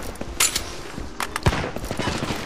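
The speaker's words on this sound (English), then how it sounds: "I threw a grenade." In the shooter video game Brink, rapid gunfire crackles in bursts with a sharp grenade blast near the middle, loud and close, and faint voices sit in the background.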